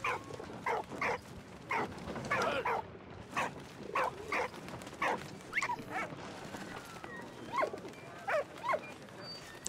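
A dog in the video game Valiant Hearts: The Great War gives a rhythmic series of short yips and barks mixed with high whimpers, fairly close and moderately loud.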